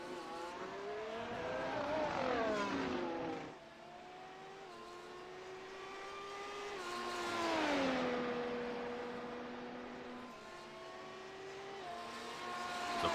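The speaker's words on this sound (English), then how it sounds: "drivers are essentially just hot lapping at this point to keep position, increase their gap as much as they can" F1 race cars hot lapping at Monza in a video game, engines whining and rising and falling in pitch through the gears. Two long sweeps of revving, moderately loud and steady, without talk.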